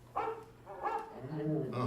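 An animatronic show dog barks and yips a few times near the start, then whimpering, high-pitched yelps carry on amid other vocal sounds.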